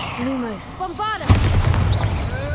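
A Bombarda spell blast in Hogwarts Legacy, cast inside a catacomb tomb, erupts as a sudden loud burst with a rumbling, crackling tail after a voice speaks briefly.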